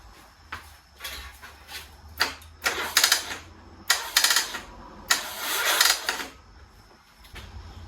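A 2000 Buell Cyclone M2 motorcycle engine, on a jump-started battery, cranks in several short bursts, loud and close, with clattering turnover but no steady idle settling in.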